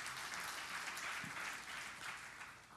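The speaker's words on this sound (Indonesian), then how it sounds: "Yang sujud beri tepuk tangan yang meriah bagi Tuhan Yesus." A church congregation applauds during a sermon, a faint, distant, steady wash of clapping that continues evenly throughout.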